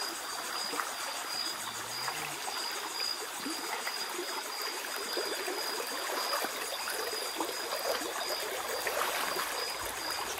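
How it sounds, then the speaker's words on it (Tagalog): Shallow forest stream of flowing water trickles and babbles steadily, soft and continuous, with faint insect chirps in the background. "Ayun ho, yung agos na tubig."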